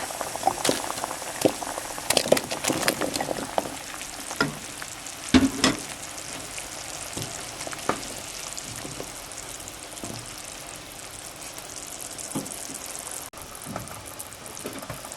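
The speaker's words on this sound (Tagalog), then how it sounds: "ngayon po, kumukulo na itong ating gata." Coconut milk bubbles and simmers in a pot, with irregular pops and soft gurgles over a steady low hiss, close by.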